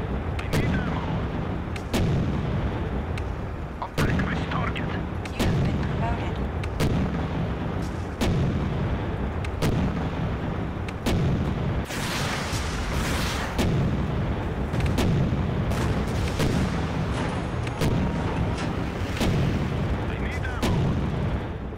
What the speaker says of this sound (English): Our defensive turret is under attack.